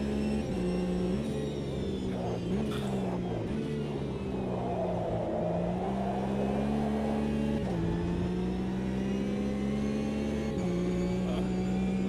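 A Porsche race car engine in Automobilista 2 drones at a steady high pitch, dipping briefly on gear changes and climbing again, loud and continuous with no talk.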